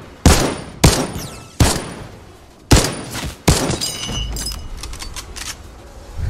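Five sharp, loud gunshots from a weapon in Fortnite, fired singly at uneven intervals, each with a short ringing tail, followed by metallic clicks and rattles of handling.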